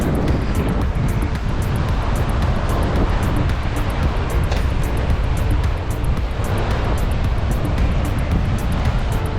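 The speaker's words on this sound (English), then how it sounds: "When we get out, it's windy, cold." Steady, loud wind buffets the beach in Cayman on a cold, windy day, a continuous broadband roar with a surf-like wash filling the whole stretch and no voices over it.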